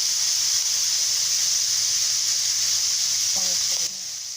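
Filipino longganisa sausage frying in its own rendered fat in a pan, a steady loud sizzle and hiss throughout, with a brief clink near the end and the sizzle dropping slightly afterward.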